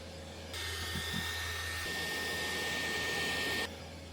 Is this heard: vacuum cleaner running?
yes